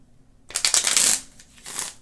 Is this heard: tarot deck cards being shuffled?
yes